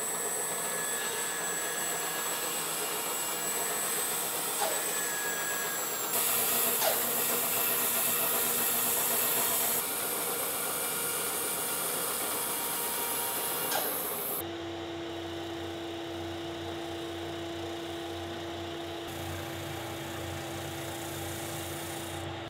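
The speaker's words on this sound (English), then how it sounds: "I'm going to give the top rail a gentle curve at the bandsaw, and then I'm going to clean it up using my oscillating spindle sander." Bandsaw cutting a gentle curve into a wooden bed rail, then an oscillating spindle sander smoothing it, a steady machine whine shifting to a lower, steadier hum partway through.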